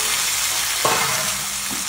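Chopped tomatoes sauté in a hot pan with a steady, dense sizzle and a few faint stirring scrapes, loud and close throughout.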